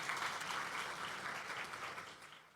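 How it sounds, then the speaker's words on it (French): Audience applause at the opening ceremony of an international forum for veiled women entrepreneurs: a dense, steady wash of many hands clapping, fairly distant and fading slightly toward the end. "On peut encore une fois les applaudir."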